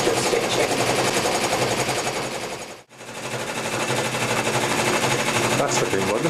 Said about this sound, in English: Starting on the decorative stitching.